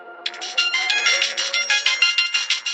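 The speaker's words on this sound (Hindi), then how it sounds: "जैसे ही वो वहां पहुंचा तो उसका फोन बजने लगा।" A mobile phone rings with a bright, repeating electronic melody in steady pulses, fairly loud and close, as a man arrives at an office; no voices.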